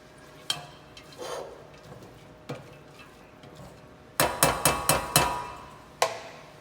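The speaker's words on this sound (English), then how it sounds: "You want to saute your onions for about 3 to 5 minutes." Onions sautéing in a pan give a quiet background sizzle broken by sharp metallic clinks and taps of a utensil against the pan, including a rapid run of five knocks near the end.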